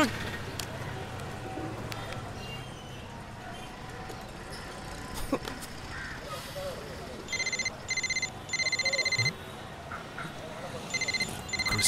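A telephone rings in a comedy film scene, sounding as a few bursts of electronic trilling in the second half, loud and close over a busy background hum.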